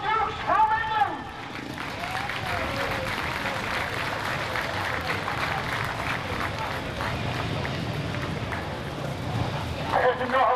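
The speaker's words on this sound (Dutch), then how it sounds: "geeft u nog een hele applaus, dames en heren" An outdoor grasstrack motorcycle race crowd applauds the winner, steady broad clapping sustained for the whole stretch under an announcer's voice.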